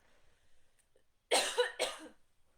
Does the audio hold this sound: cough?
yes